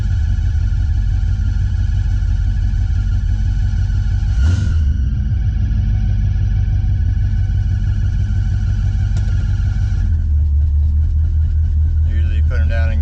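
A 1980 Chevy Camaro, a former racecar turned custom street car, idles while warming up, a steady deep engine rumble throughout with one brief sharp noise partway.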